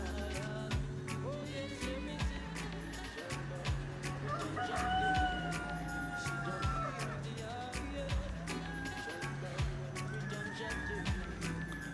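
Roosters crowing at night during a live broadcast, several drawn-out crows rising over a busy, constant background with scattered clucks and other noise, moderately loud and fairly near.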